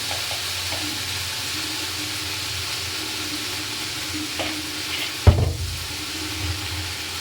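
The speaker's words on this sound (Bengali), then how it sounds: "এরপর এটাকে ফ্রাই করতে থাকবো।" Tomato paste with turmeric frying in a pan, a steady close sizzle that continues throughout, with a sharp clatter of a utensil or stirring near the end.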